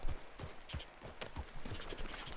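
Horse hooves clip-clop at a steady walking rhythm in Red Dead Redemption 2, a series of close, distinct thuds repeating evenly across the moment.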